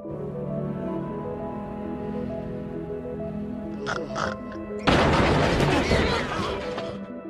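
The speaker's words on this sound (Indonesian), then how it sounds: "terdengar suara tembakan yang berasal dari luar" A sudden loud burst of gunfire erupts partway through, a rapid crackling volley that continues for a couple of seconds over a low musical background.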